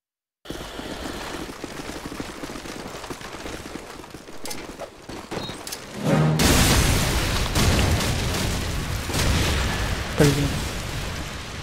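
Heavy booms and gunfire from a multiplayer shooter match pound away almost continuously, turning louder and denser partway through, with scattered sharp blasts. Players talk faintly underneath.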